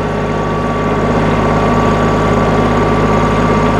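A tractor engine runs steadily while potatoes are planted on sandy field soil, producing a loud, continuous low drone with constant vibration and no speech.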